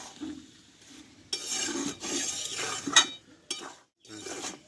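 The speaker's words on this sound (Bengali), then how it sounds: "এই গুড়টা দিয়ে একটু নাড়াচাড়া করে দেব" Raw mango and jaggery stirred in a pan over high heat, heard as several bursts of scraping and rubbing strokes separated by short pauses, close by, with one small clink, and no voices.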